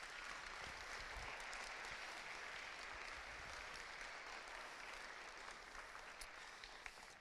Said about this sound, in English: If we could please give a round of applause for the staff at AMS.